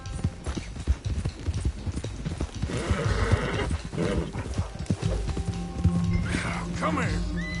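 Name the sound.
horse galloping and neighing in Red Dead Redemption 2 video game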